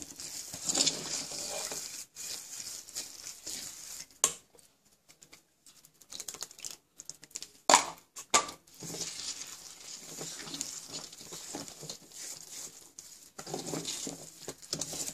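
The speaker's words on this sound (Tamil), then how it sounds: "இப்போ இந்த தயிரெல்லாம் இப்படி இழுத்துக்கும், திருப்பியும் விட்டு கலக்கணும் தயிர்." Curd is stirred with rava for rava idli batter, producing soft irregular sticky squelches and patting scrapes near the bowl, starting and stopping with brief silent pauses, quiet and without voices.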